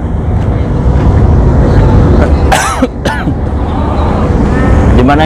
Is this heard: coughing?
yes